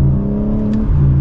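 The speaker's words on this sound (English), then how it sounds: "You can hear that exhaust when you get on it" A 2024 BMW M4 Competition exhaust under acceleration gives a short, close, loud burst of engine roar with a rising growl and no voices.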